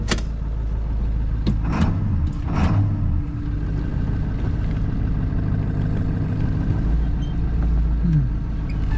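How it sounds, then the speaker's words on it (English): A Ford Powerstroke diesel pickup truck idles and rumbles steadily while backing off a trailer, with a few sharp clunks and squeaks early on. "let's back this thing off the trailer"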